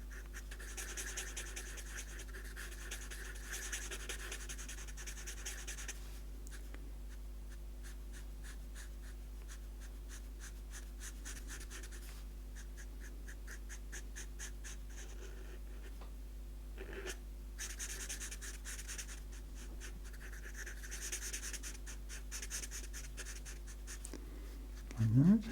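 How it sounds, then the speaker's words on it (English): A drawing tool's sharp edge scratches across paper while sketching fine details of a portrait of Queen Nefertari, a steady soft scraping with short pauses, heard close and fairly quiet throughout. "using the sharper edge to kind of draw around these finer points of the drawing here"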